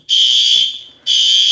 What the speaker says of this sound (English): Excuse the fire alarm.